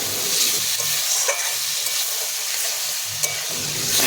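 Boiled taro and potatoes are stir-fried in spice masala over a wood-fired clay stove, giving a steady close sizzle with a few soft stirring scrapes and no talking.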